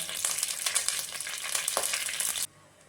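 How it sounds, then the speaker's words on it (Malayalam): Fenugreek seeds spluttering in hot oil in a pan give a close, steady sizzle with scattered sharp crackles and pops, then stop abruptly near the end. "നമുക്ക് ഉലുവ ഇതൊന്ന് നന്നായിട്ട് പൊട്ടി വരട്ടെ."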